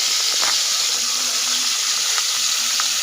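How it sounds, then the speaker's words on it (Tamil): Mustard seeds and curry leaves tempering in hot oil make a loud, dense, even sizzling hiss, with faint crackles breaking through now and then. "எண்ணெய் ஊற்றி கொஞ்சம் கடுகு, கருவேப்பிலை போட்டு நம்ம தாளிச்சிக்கலாம்."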